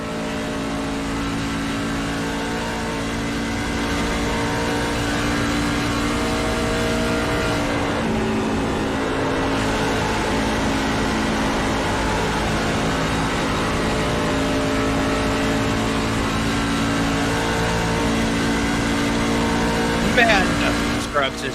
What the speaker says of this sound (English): listen to the throttle flat the entire way around this track